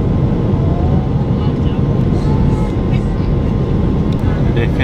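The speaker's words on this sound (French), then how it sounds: "Et là, on est en train d'atterrir." A passenger airplane landing, with a steady loud roar of engines and rushing air filling the cabin throughout, broadband and continuous with no pauses.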